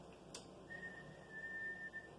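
A thin, steady whistle holds one high pitch for a couple of seconds after a brief click, fairly quiet against a soft background hiss.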